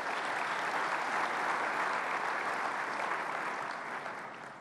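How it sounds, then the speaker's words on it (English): Sustained audience applause fills a conference hall at a closing ceremony, a dense, steady wash of many hands clapping that holds level and then begins to fade near the end. "I would like us to give her a round of applause in this room here."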